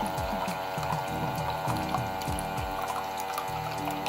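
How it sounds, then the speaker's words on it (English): Water pours steadily from a JOYHILL water bottle dispenser with a low motorized pump hum and gurgling, continuous for a few seconds. "It does make a little bit of noise, but it's only for a short period while you're pouring the water."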